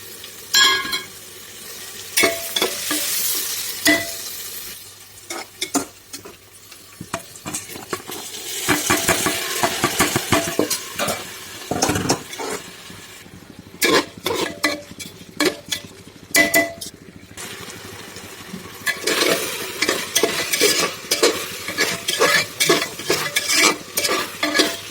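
Rice and lentils fry in a pan for khichuri, stirred vigorously with a utensil. Bursts of scraping, clinking and sizzling come and go over about 25 seconds, close up and without voices.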